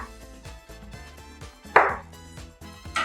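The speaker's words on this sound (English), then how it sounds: "I'm just going to cut them into nice half-inch slices on the bias." A knife slicing very ripe plantains into half-inch bias-cut slices on a cutting board: steady, evenly spaced chops close up, each a soft thud followed by a brief scrape.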